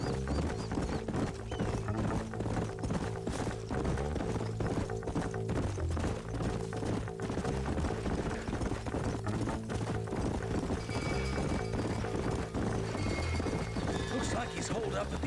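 Horse hooves clip-clopping in the Red Dead Redemption video game, a steady rhythmic trot heard under a continuous bed of game music and people talking.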